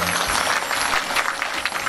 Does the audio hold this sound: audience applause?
yes